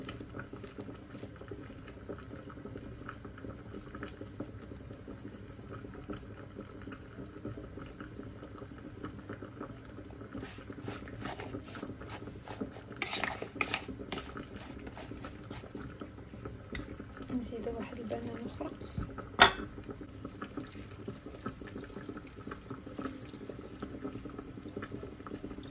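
A Moroccan tagine simmers on the stove, giving a low, continuous bubbling and faint popping with a few clinks of cookware, while someone talks over it.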